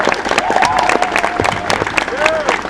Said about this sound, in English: Big round of applause, my friends.